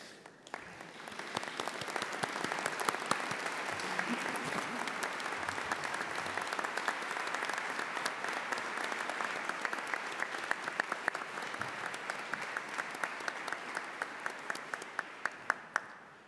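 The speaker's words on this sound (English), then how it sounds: "join me in applauding all of the amazing people that are here with us today" A graduation ceremony audience in Peterborough applauds: dense, sustained clapping from a large crowd runs steadily for the whole stretch and thins out slightly at the end.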